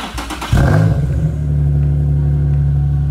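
A Nissan 350Z engine idles with a loud, rumbling exhaust after a brief revving burst at the start, steady and close.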